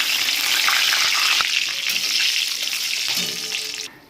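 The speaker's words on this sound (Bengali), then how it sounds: "এই তেলে আমি ফোড়নে দিয়ে দিচ্ছি গোটা গরম মশলা" Whole garam masala, bay leaf and dried chillies frying in hot oil, a loud, steady close-up sizzle that holds for several seconds and then cuts off abruptly near the end.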